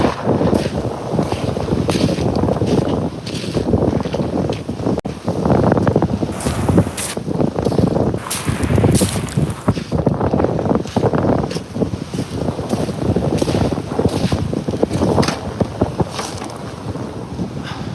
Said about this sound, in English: it's a little windy out here